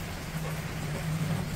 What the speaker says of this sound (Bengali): বৃষ্টি বাইরে পড়ছে